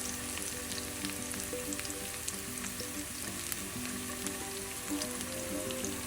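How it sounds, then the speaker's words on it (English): Thinly sliced tomatoes sizzle in a frying pan over medium-low heat, a steady, dense crackle and hiss that runs close and even throughout without pause. "So I'm going to go ahead and add my thinly sliced tomatoes."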